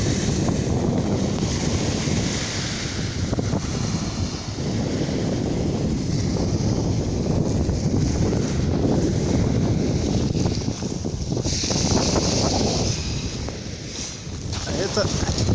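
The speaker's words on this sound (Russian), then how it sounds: "Это море." Wind buffets the microphone on the Sea of Okhotsk shore near the town of Makarov on Sakhalin, with waves washing in beneath a loud, continuous roar that eases slightly near the end.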